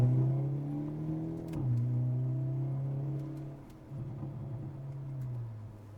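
A Hyundai Elantra N engine revs through its exhaust, the pitch rising briefly then settling into a steady drone with a second, gentler rev later.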